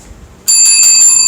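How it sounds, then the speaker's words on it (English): A bright metallic hand bell rings loudly and sustains with shimmering tones after a quiet start, heard close and alone. "Forgot to ring that bell."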